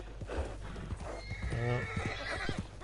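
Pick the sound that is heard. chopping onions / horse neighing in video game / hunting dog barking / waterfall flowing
horse neighing in video game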